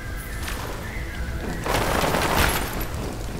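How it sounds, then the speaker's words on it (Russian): Gunfire crackles in the video game Crysis 3, a noisy stretch of rapid shots and booms that grows louder partway through, with no voices. "там уже идет стрельба"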